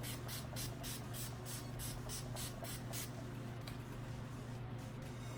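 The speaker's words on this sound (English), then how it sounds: "this is of course the Urban Decay All Nighter setting spray" Urban Decay All Nighter setting spray is pumped in a quick run of about ten short misty hisses over roughly three seconds, faint and close, followed by quieter room noise.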